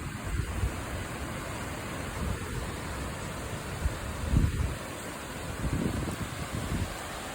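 Strong wind gusting beside a lake, a steady broadband roar buffeting the microphone with several louder surges, no voices.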